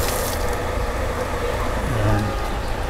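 A Jetmatic water pump motor that has been smoking runs with a smooth, steady hum, loud and continuous throughout.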